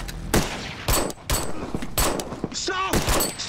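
Heavy gunfire erupts in a TV battle scene, with loud repeated bursts of shots and volleys hammering out in clusters, and voices shouting between them.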